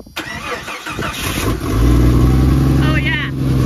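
A Jeep Cherokee XJ with no exhaust fitted cranks and fires up, a sharp start followed by a loud, rough, raw idle rumble close to the microphone, with a voice heard briefly at the start.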